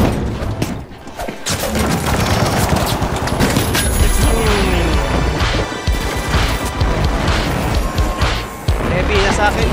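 A frag grenade blasts in the video game The Finals amid dense, loud crashing combat noise and rapid impacts, with voices talking over the clamor.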